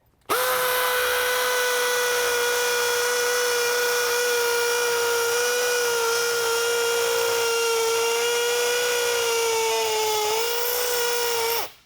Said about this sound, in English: we could drill that hole in masonry through stones